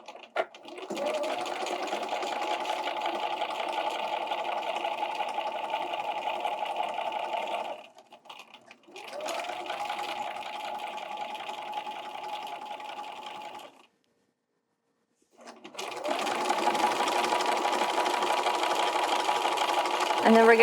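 A domestic sewing machine with a walking foot stitches quilt binding in two long steady runs separated by a short pause, then starts again after a brief silence; the motor whirs loud and close.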